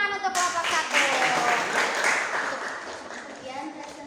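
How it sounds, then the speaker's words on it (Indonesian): A classroom of students claps for a presenting student group, a fairly soft patter of hands that begins under a speaking voice and carries on briefly afterward. "Tepuk tangan untuk kelompok 1."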